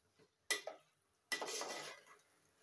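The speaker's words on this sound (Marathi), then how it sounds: "तांदूळ घातल्यानंतर हलक्या हाताने परतून घ्यायचं आहे।" Utensil clinks and scraping against a cooking pot as rice is gently stirred for veg pulav, two distinct bursts of metallic contact, the second longer and fading, close and moderately loud with no talk.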